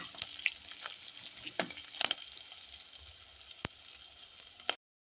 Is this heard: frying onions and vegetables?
yes